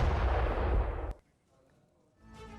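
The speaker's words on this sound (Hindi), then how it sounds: "धमाके इस वीडियो में नजर आए" Loud blasts of artillery fire and explosions in war footage from an attack on a Russian weapons depot, one long roaring burst that cuts off sharply, then quiet rumble before further distant firing builds.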